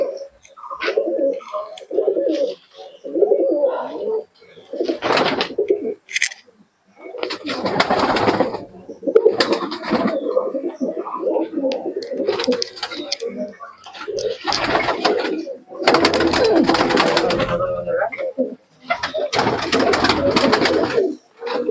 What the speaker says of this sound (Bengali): সুন্দর কোয়ালিটির কবুতর আছে এখন